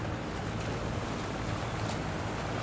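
A fishing boat runs on the water near port, heard as a dense, steady wash of engine rumble, water and wind noise with no pauses or speech.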